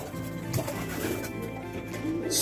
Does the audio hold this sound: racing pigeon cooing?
yes